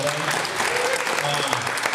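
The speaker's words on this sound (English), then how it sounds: "Quick round of applause for Doug and Adam." Audience applause for two podcast guests at a live recording, a dense, steady patter of clapping from a room full of people, with some voices underneath.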